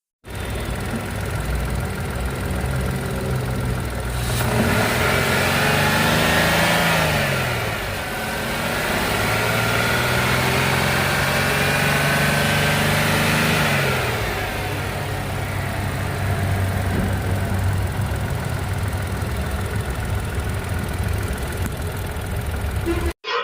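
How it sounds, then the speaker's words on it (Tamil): A Renault Triber's three-cylinder petrol engine is revved outdoors at a sale lot, climbing in two or three loud, close surges with a short drop between them, then settling back toward a rough idle. "இந்த வண்டி ரைஸ் பண்ணுற இப்போ பாருங்க."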